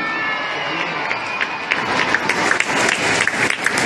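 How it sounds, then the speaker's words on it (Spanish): Audience applause and cheering at a large children's and youth orchestra and choir concert, a loud sustained wash of clapping with crowd noise throughout. "El aplauso para la Trinidad de Filarmonía."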